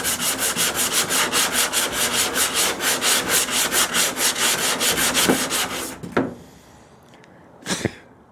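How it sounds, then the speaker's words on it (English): Body filler on a 1929 Chrysler is hand-sanded with 80-grit paper in quick, rhythmic back-and-forth strokes, close and steady for about six seconds, then a few scattered rubs and handling noises. "A couple seconds of sanding, you could paint that."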